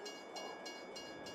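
A train moving in the Farming Simulator 22 video game, heard as a steady rolling rumble with a faint, regular clack repeating about three times per second.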